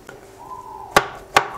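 Two sharp knife chops strike a cutting board in quick succession, cutting hot roasted vegetables, close and crisp, with a faint tonal hum beneath and no talking.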